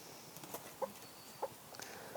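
Hens in a backyard coop give three short, soft clucks spaced through a quiet moment, faint and a little distant.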